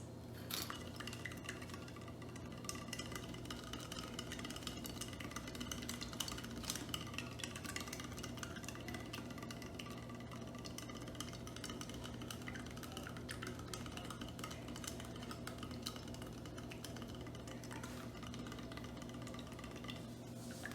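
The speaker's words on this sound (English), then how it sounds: "It's taking quite a bit of stirring." Glassware being stirred to dissolve a solid during a solubility experiment gives a faint, continuous patter of light clinks and taps over a low steady hum, with no voices.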